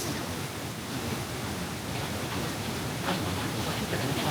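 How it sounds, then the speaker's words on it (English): Rushing water crashing into a lake in Yunnan, a loud, steady broadband roar with no breaks, heard close and alone. "the amount of water that were rushing and just crashing into the water was amazing"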